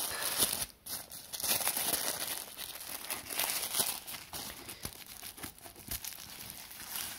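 Gift wrapping paper tears and crumples continuously as a package is unwrapped, close and busy crinkling with a few sharper rips throughout.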